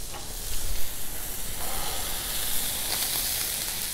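Steaks searing on a 36-inch Blackstone griddle give a steady, loud hiss and crackle of sizzling fat, close by, with no talk.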